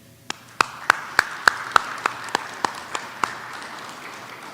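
About ten sharp, separate hand claps at a firefighter graduation ceremony come at an even pace, softening toward the end before falling quiet.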